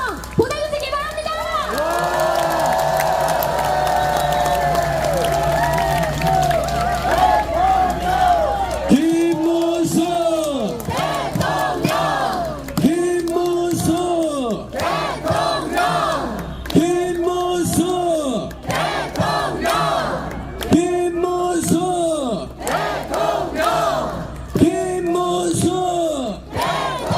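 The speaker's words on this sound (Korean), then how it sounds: "정정당당 자랑스러운 우리 김문수 후보님께 다시 한번 큰 박수와 환호성 보내주시기 바랍니다" A large crowd at a street rally for presidential candidate Kim Moon-soo in Sinchon, Seoul, cheers and chants in loud, rhythmic, repeated bursts, close and sustained, with voices shouting together.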